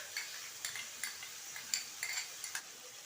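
Ginger garlic paste stirred into hot oil in a pan for a Bengali rohu fish curry, a spoon scraping and tapping against the metal in soft irregular strokes over a faint sizzle.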